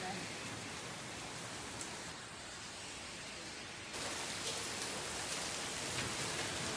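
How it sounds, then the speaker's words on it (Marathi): Heavy overnight rain with hail pours down over Delhi, a dense, steady hiss of downpour that swells slightly louder partway through and never lets up. "दिल्लीमध्ये रात्रीपासून मुसळधार पाऊस आहे"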